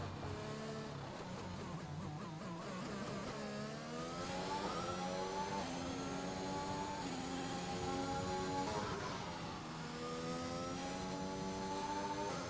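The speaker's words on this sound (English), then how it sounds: "Aston Martin commencing the first flying lap of Q3" An Aston Martin Formula 1 car in a racing video game screams through a flying qualifying lap at the Saudi Arabia Grand Prix, its high engine note rising and falling through repeated gear shifts and revs, loud and continuous.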